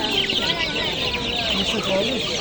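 Black chicks about 17 days old at an Andijan poultry market, with chickens clucking and cheeping densely throughout, steady and fairly loud amid market bustle.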